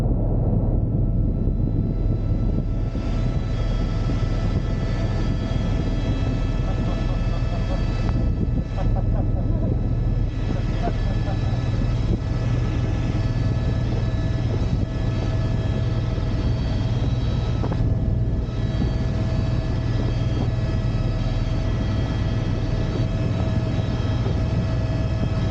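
A steady, loud rotor and engine roar from inside a tour helicopter in flight over Hawaii, with voices and laughter faintly mixed into the drone.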